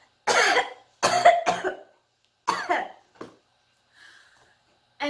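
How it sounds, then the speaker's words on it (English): A patient coughs in several short, harsh bursts, a few loud coughs close together followed by weaker ones and a faint breathy tail, heard close up with no talking. "With this one, your patient should cough."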